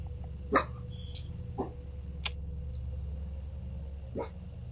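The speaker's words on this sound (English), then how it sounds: "the family dog suddenly started barking aggressively, pacing near the front door" A family dog indoors near the front door lets out several short, sharp barks and yelps, spaced irregularly over a few seconds, fairly close but thin-sounding, as picked up by a doorbell camera, with a low steady hum underneath.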